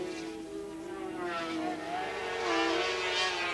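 Racing sidecar engines at the 1984 Silverstone sidecar race scream loudly as the outfits exit Beckett's toward Chapel, pitch climbing then dropping with each upshift through the gears, with no talk.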